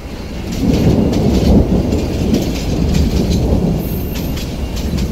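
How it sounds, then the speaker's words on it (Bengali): A passenger train pulling into Hasilpur station under dark storm clouds produces a loud, heavy, continuous rumble of wheels on rails, heard up close. "আবার হর্ন বাজিয়ে ট্রেনটি হাসিলপুর স্টেশনে এসে থামল"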